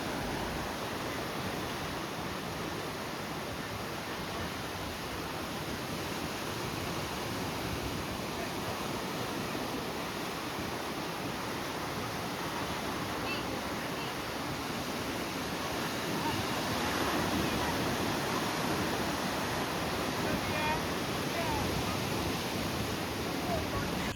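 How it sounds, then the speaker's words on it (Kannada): Sea waves wash steadily onto a beach, a continuous broad roar of surf with gentle swells and no distinct breaks, heard alone at moderate level. "ಆ ಸಮುದ್ರದ ಅಲೆ ಸೌಂಡ್ ಸಖತ್ತಾಗಿತ್ತು"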